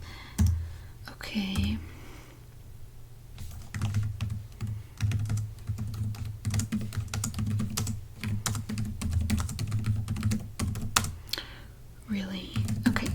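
Steady, irregular keyboard typing clicks continue throughout at close range, with a brief spoken word near the start and a low hum underneath.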